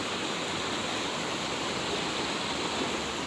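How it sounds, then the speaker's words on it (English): A waterfall on Sulfur Creek Trail in Capitol Reef roars in a steady, dense rush of water, close and loud throughout, with no voices. "Dude, that totally is a waterfall."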